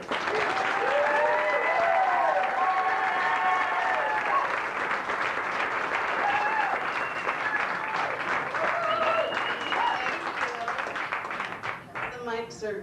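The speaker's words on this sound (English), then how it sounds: "let's bring a great round of applause for Hannah Bradford" Comedy club audience at the LaffOff 2005 show claps loudly and steadily with whoops and cheering voices mixed in, a dense sustained roar that thins out near the end.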